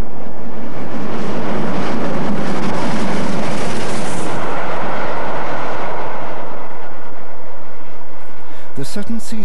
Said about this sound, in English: Latford works a down Bournemouth train as a new electro-diesel passes on the up.